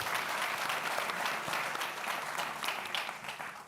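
Audience applauding at a faculty panel during a university reunion, a dense, steady wash of clapping from a large crowd that holds throughout and tapers slightly at the end.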